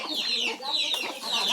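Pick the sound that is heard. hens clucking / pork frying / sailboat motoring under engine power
hens clucking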